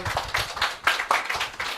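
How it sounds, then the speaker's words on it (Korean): A small group of people claps at an indoor gathering celebrating a tree-themed platform town business, uneven hand claps close by for a couple of seconds with no talk. "박수 주세요"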